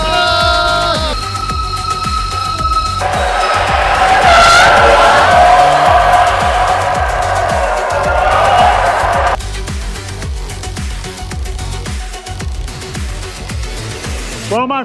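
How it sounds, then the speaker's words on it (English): A car drives hard and skids inside a tunnel in the Faroe Islands, its engine roaring close by while tires squeal in a long, loud, wavering screech before the engine drops back. "All right, let's do some driving,"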